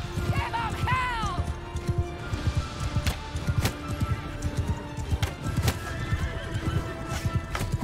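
Horses in the video game Mount and Blade Bannerlord gallop with rapid clip-clop hoofbeats under battle noise. A loud whinny rings out early, and sharp impacts punctuate the running hooves.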